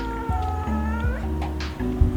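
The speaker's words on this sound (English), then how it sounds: "I'm gonna go before my cat has a conniption." A house cat yowls loudly and insistently, one long continuous wailing meow close to the listener with no talk over it.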